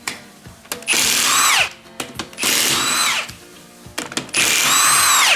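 An impact gun loosens the crankshaft cap bolts on a Fiat Scudo 2.0 HDI engine in three loud, whirring, hammering bursts of about a second each, separated by short clicks and socket handling noises, heard up close.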